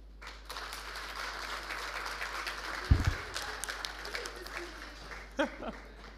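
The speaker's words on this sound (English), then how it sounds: "So if you are 35 years old or younger, please clap." Audience members at a conference session on entrepreneurship and youth employment clap together in a steady, moderately loud burst of applause lasting several seconds, with a few louder claps standing out near the middle.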